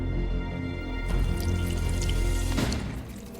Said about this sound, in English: I will douse these very rare 200-year-old Kyoto bonsais with each of the liquid